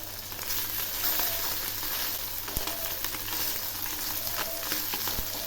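Steady sizzle and hiss from a pan of fish frying just after being turned over, with occasional light taps from a utensil and no one speaking.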